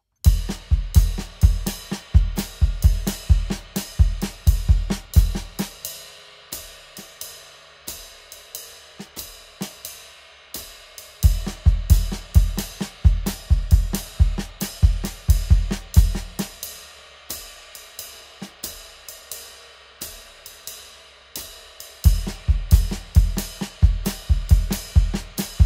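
A drum kit plays paradiddles split between bass drum and hand, over a steady jazz ride-cymbal pattern in quarter notes. The sharp, even hits come in bursts with short pauses between.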